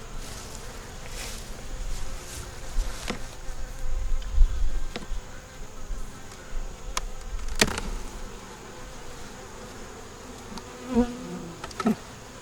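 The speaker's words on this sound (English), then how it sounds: "Y'all see all them bees down there?" Honey bees swarm around an open hive box in a dense, continuous buzzing drone, with occasional bees passing close and a few light knocks of handling, no talk.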